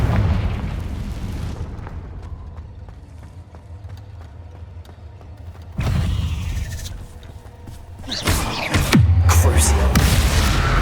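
A Confringo blasting spell in Hogwarts Legacy erupts in several booming bursts, one fading blast at the start, another sudden hit midway, and a louder rumbling explosion near the end among crackling game effects.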